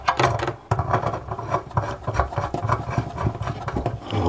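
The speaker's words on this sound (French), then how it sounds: "Et je viens de serrer avec ma clé à molette." An adjustable wrench tightens the nut under a washbasin tap, giving close, busy metallic rasping and clicking in quick irregular bursts, with no talking.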